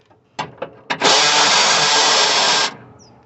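A 10 mm bolt on a 2009 Nissan Frontier 4.0 comes out under a power tool: a few short taps, then one loud, steady whirring burst of about two seconds that cuts off abruptly.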